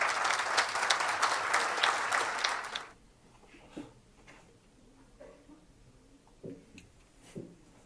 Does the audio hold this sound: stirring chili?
no